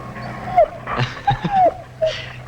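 A dog whimpers and whines in short, high-pitched bursts close by, with little breathy yips between them.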